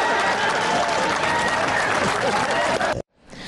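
An impressed audience claps warmly after a public show, a loud continuous wash of applause and crowd noise that cuts off abruptly near the end.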